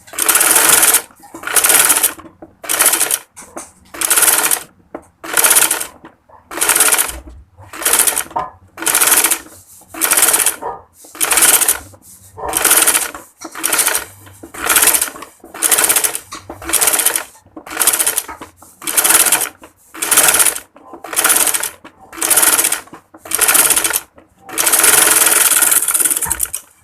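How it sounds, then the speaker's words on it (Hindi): A domestic sewing machine stitches a folded kurti neckline in repeated bursts of a second or so, each separated by a short pause. The rapid mechanical whir is loud and close, with no talking. "इसे इस तरह से फोल्ड करके इस पर सिलाई लगाना स्टार्ट करते हैं।"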